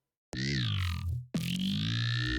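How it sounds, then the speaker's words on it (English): A buzzy, distorted synth growl held as a sustained pad, cutting off briefly before a second note swells in, loud and close. "Simple growl pad."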